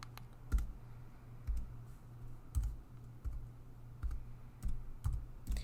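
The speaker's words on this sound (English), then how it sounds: "The password is on the hotspot, and it is labeled as the password, so I'm going to type it in" A computer keyboard is tapped at an irregular, unhurried pace while a hotspot password is entered, producing soft close keystroke clicks with short pauses between them.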